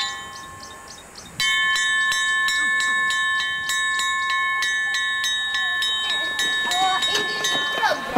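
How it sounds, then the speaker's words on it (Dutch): Electric school bell at a Kenyan girls' boarding school with 700 pupils, starting abruptly and ringing continuously with a bright, ringing buzz for several seconds amid faint outdoor background noise. "Als de bel gaat, gaan alle 700 meisjes naar binnen."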